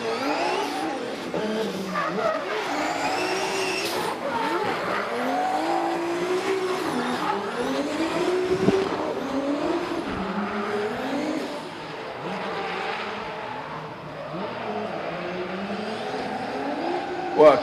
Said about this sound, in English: 900 horsepower, and off we go for D1NZ Templeman.